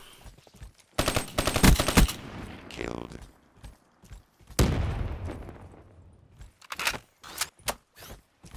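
Gunfire in a Black Ops 3 Hardpoint match: rapid automatic bursts and sharp single shots come in clusters with gaps between them, loud and close, and a player talks at points.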